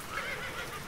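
A horse in the Roblox game Sapien lets out a brief whinny, a wavering high-pitched call sitting over a steady noisy background, with no voices.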